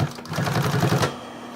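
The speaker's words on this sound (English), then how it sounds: "Go over top of it, sew out, so you're past the hole." A sewing machine runs a steady stitching burst on an ST-205 project, sewing past a notch and hole; the rapid, even needle rhythm lasts about one second at close range before stopping.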